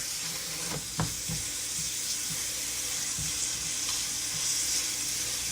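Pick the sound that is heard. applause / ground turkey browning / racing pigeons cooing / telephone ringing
ground turkey browning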